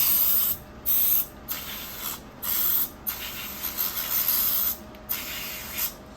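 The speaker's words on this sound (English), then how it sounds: "It's called a contact cleaner, electrical contact cleaner." Electrical contact cleaner sprayed from an aerosol can while fitting halo headlights to an SW20 MR2 in a garage: several short hissing bursts of varying length with brief pauses between, close and clear, no talking.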